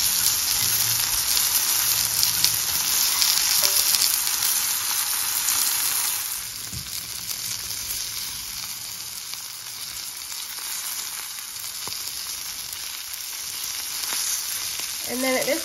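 Morel mushrooms fry in butter in a pan, a steady close sizzle and crackle that runs throughout, with occasional soft utensil scrapes.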